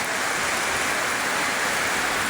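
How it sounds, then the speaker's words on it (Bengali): Heavy rain pours down on Dhaka in a steady, dense hiss, continuous and loud with no breaks, as wind drives it on a downpour lasting days. "বৃষ্টি বৃষ্টি হচ্ছে ঢাকার শহর আজকে 3 দিন ধরেই।"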